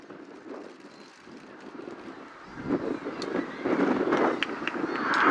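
Red Arrows jets in a flying display at Duxford roar overhead, a broad engine rush that builds steadily from moderate to loud as the aircraft pass close, with wind buffeting the microphone.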